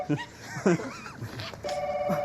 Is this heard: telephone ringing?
yes